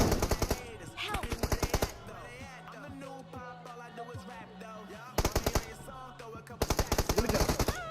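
Rapid bursts of automatic gunfire in a PUBG-style battle royale video game, loud and close, opening and closing the passage around a quieter stretch of game sounds and background music.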